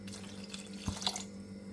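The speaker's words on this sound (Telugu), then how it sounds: "ఈ బెల్లంలో కొంచెం వాటర్ పోయాలి." Water poured onto jaggery in a pan to make syrup, a faint close splash and trickle lasting about a second, with a low hum underneath.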